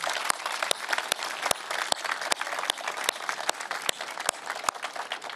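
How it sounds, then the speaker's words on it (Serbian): A large audience at a political rally breaks into big, sustained applause, dense and loud with sharp individual claps standing out, continuing steadily without any speech. "Jedan aplauz veliki"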